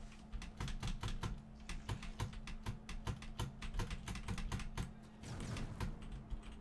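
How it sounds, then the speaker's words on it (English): An aging computer keyboard clacks loudly under fast, irregular typing during a Trove gaming session, with dense, sharp keystrokes close to the microphone and a brief pause before a final flurry. "I need a new keyboard, I really do. Because it seems to be getting louder every day."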